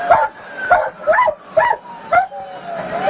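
A police dog at a nighttime traffic stop barks and yips in five sharp, evenly spaced bursts, close and loud, with no talking over it.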